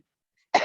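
After near silence, one short, sharp cough bursts out close to the microphone right at the end.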